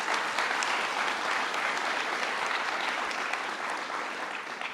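A crowd at a New York governor's downtown revitalization announcement in Jamaica bursts into sustained applause, a dense even patter of many hands, loud and steady for several seconds before easing slightly at the end.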